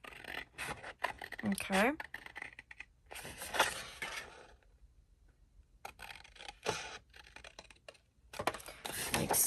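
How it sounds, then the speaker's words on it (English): Scissors snip out the four corners of a paper policy envelope in a card-craft project, making short, crisp cutting and rustling bursts between pauses, with someone talking over parts of it. "So cut out all 4 corners again, just like you did."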